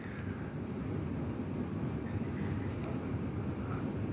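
A metro train on Valencia's new line 10 gives off a steady, loud low rumble and mechanical roar from the carriage as it runs toward Natzaret, continuous throughout without talk.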